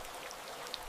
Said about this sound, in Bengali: অনেক দিন পর বৃষ্টিতে ভিজলাম